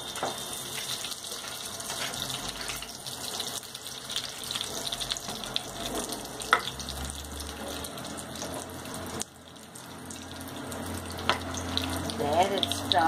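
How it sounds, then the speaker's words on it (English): Potato pieces fry in hot oil for mutton chops, a continuous, rushing sizzle close by that swells toward the end, with a brief dip partway through. "the oil is nicely hot enough to put in the potatoes, and there it goes"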